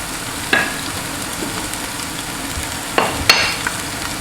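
Ginger paste frying in a pan while making pea pulao gives a steady soft sizzle, broken by a few sharp scraping stirs near the start and toward the end.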